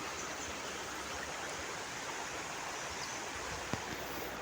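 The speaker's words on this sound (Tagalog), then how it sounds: "Malinaw na po ang ilog dito sa amin." A clear river flows in a steady broadband rush of water, evenly loud throughout, with one brief click near the end.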